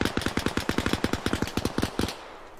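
Rapid automatic gunfire in the video game Arma Reforger, a fast, loud burst of about twenty shots in steady rhythm that stops abruptly, leaving a short fading tail.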